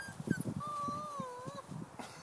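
A puppy whimpers in a thin, drawn-out whine after being stepped on, close and soft, with light scuffling underneath.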